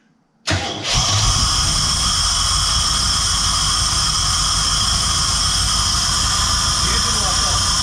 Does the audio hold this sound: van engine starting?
yes